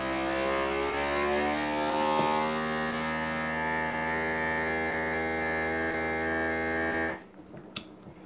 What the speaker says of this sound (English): I'm just going to vacuum seal these with my kit that I got